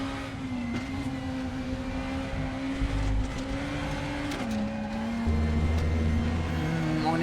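Super Touring race car in the RaceRoom racing game at Monza, its engine droning steadily at high revs with a pitch shift partway through as it changes gear, loud and continuous throughout.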